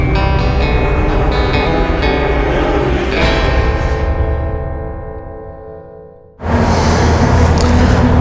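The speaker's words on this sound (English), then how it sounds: "I guess they're racing a motorcycle out on the road there" A motorcycle races along a road outdoors, its engine note rising and sustained for several seconds, then fading away before a sudden loud broadband burst takes over near the end.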